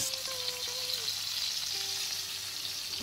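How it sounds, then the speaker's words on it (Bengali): Fish pieces fry in oil in a pan, making a continuous close sizzle and crackle that holds at an even level throughout, with a faint tonal hum running underneath. "মাছের দুটো পিঠই ভালো করে ভেজে নেব"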